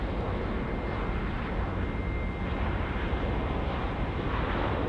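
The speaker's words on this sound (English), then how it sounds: "the A350 900 from China Airlines. Just landing here nicely there, runway 23" China Airlines Airbus A350-900 jet landing on runway 23 at Auckland Airport, a steady broadband roar of engine and airflow that holds evenly loud throughout without any talk.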